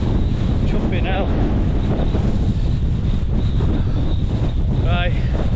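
Strong wind roaring across a fell summit in the Lake District near Seat Sandal and Steel Fell, constant heavy buffeting against the microphone throughout, with faint bits of voice buried underneath.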